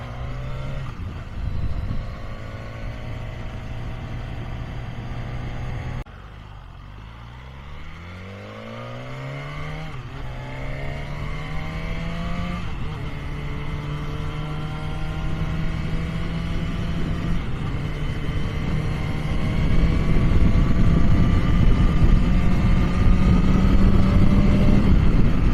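A BMW S1000 R motorcycle is ridden hard, its engine note climbing through the revs with repeated gear changes and swelling wind roar, loud and continuous from an onboard position.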